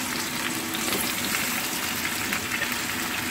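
Steady, dense sizzling of salted meat frying in a hot pan, a continuous crackling hiss with no talking.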